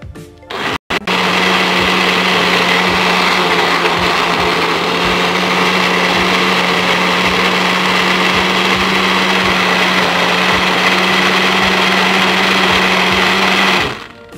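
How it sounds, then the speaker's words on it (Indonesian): An electric blender grinds seasoning topping for cilung, a loud, steady whirring drone that runs for about fourteen seconds after a brief start-up stutter, then cuts off. "Jadi kita bentukin lagi, kita blender."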